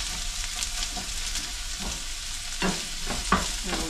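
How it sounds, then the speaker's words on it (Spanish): Onion sautés in hot oil in a pan, a close steady sizzle broken by repeated scraping stirs that grow busier toward the end, with no talking. "agregan la cebolla para sofreír la cebolla un poco"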